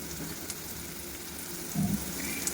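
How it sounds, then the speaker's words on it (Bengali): Food fries quietly in a pan in a home kitchen, a soft, continuous sizzle with a few faint stirring clinks, heard close but at low volume. "তো চলো এটাকে একটু ভেজে নিচ্ছি"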